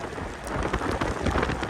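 Rain pours steadily during a wet test ride on an Ausom L1 Max electric scooter, a dense hiss of drops and spatter with wind buffeting the low end, no voices, loud and constant throughout.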